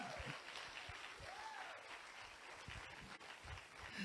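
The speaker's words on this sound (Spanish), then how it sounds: "Den un aplauso fuerte al Señor" Steady applause from a church congregation, a dense continuous patter of clapping with a faint voice briefly audible beneath it.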